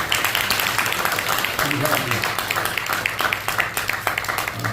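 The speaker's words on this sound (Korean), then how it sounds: "크게 한번 박수 해주시면 고맙겠습니다" A church congregation at a pastor's retirement and installation thanksgiving service claps loudly and steadily, a dense crowd applause with a voice speaking briefly over it.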